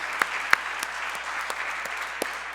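Scattered clapping from an audience at a Martin Luther King Jr. Day keynote event in a college hall, a few sharp claps over a steady low murmur of applause.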